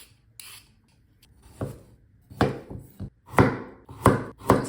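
A knife cuts carrot into thin julienne strips on a board, sharp chopping strikes landing one at a time, spaced apart at first and then coming faster, close and clear.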